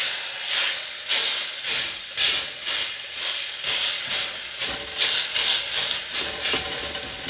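Potatoes fry in a hot pan with a loud, close sizzle and hiss that pulses in irregular bursts as they settle and crackle, with no talk over it.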